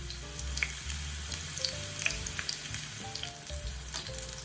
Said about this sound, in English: Once the oil is hot enough, add the buttered shrimp